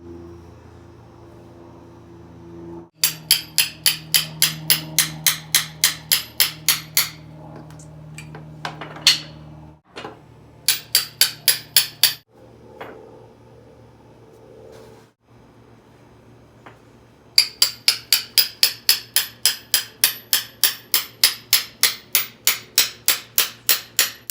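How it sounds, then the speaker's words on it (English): Rapid bursts of metallic hammer blows on a socket extension inside a BMW M52 stroker engine ring out in quick rhythmic series, separated by pauses and a few scattered single knocks, close and loud. "hitting it with my hammer and my extensions right there"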